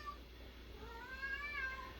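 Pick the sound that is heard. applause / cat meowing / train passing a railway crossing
cat meowing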